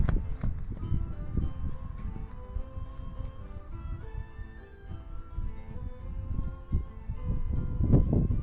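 A draft horse's hooves clip-clop over ground as it walks toward an exit in a riding area, with irregular nearby steps under some rustling, and a person speaks faintly.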